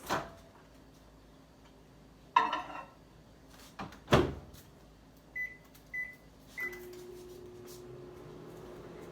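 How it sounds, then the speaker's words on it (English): A kitchen microwave oven is shut with a thump and started for 30 seconds to warm liquid for cinnamon roll dough, with soft keypad beeps and a low steady hum, fairly quiet. "So we're just going to put in the microwave for 30 seconds."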